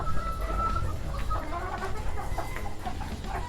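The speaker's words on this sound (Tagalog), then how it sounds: "nandito yung aking mga brood pullet, yung mga gagamitin natin na pullet" Gamefowl brood pullets cluck softly on a game farm, with scattered low clucks over a steady outdoor background and no talk.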